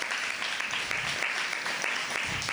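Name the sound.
audience applause welcoming a speaker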